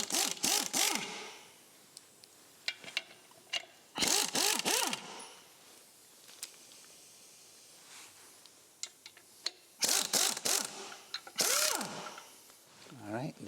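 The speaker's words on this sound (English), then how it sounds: "we need to unbolt a couple of these bolts" Ratcheting wrench unbolting bolts on a Formula Ford VanDiemen RF-85 gearbox, sharp clicking bursts in three clusters with quieter metallic taps between, close by.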